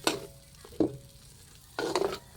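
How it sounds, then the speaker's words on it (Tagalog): Onion and garlic sauté in a pan of hot oil for a chicken dish, with quiet sizzling and three short bursts of stirring and scraping separated by calmer gaps. "Gisa natin dito yung ating sibuyas bawang."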